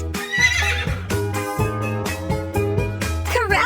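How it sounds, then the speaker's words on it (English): A horse whinnies and neighs over upbeat children's music, with clip-clopping hooves and a rising, wavering neigh near the end. "Correct, it's a horse."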